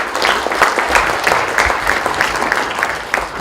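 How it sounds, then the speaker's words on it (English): An audience at a lecture gathering claps together, a dense, loud and steady wash of many hands lasting a few seconds without talk over it. "please join me to have a clap of hands and join hands to them"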